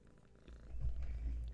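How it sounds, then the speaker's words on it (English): A cat purrs close by, a low rhythmic rumbling that grows louder and steadier over a short stretch. "I'm sure you can hear that purring."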